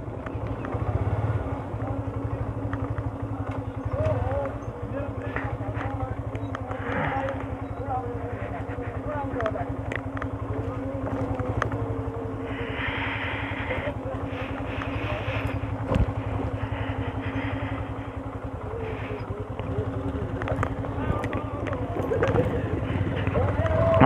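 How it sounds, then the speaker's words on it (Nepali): Motorcycles ride along, a Pulsar 220F and a Yamaha FZ V2, with a steady engine drone under constant wind buffeting on the microphone while riders talk over the noise. "सन् दाइको चाहिँ 220 छ नि त बाइक त्यही हो अगाडिको दाइले चलाइरहेको"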